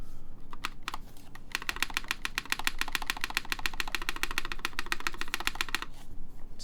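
Rapid, even keystrokes clatter on a Matrix 8XV2.0 mechanical keyboard, close and crisp, with spacebar presses in a dense run that starts after a few scattered clicks and stops near the end.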